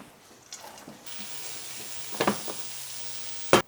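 Quiet, steady sizzle of leeks frying slowly in cocoa butter in a pan, with a few brief stirring clatters and a sharper scrape near the end.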